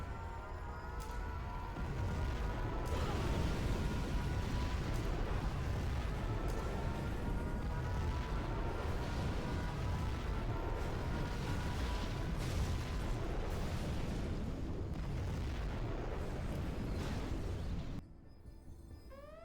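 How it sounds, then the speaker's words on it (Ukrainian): A dense barrage of booming explosions from nuclear strikes in the video game Generals Zero Hour rumbles continuously for many seconds, loud and layered, then abruptly drops away. "дивимося на красиві вибухи"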